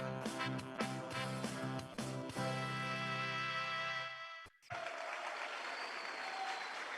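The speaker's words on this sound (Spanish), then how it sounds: "Démosles un fuerte aplauso al hermano" Applause breaks out in a church service after a hymn, starting faintly under the fading sung and instrumental music and then continuing as a steady clatter of clapping near the end.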